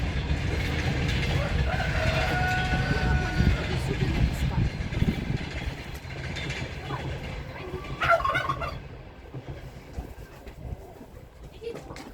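Turkey hens and a tom make gobbling and clucking calls in a farmyard flock, fairly close, with a few bursts of louder calls over steady background noise; a person talks in places.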